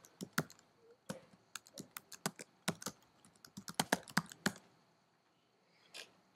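Rapid keystrokes clatter on a computer keyboard as a username and password are entered, bursts of close, crisp clicks with short pauses and a final lone tap after a gap.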